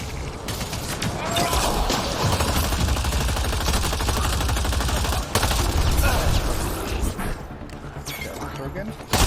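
Rapid video game gunfire aimed at a Krogan, with dense bursts of shots and a few heavy booms, continuing with a speaking voice over it.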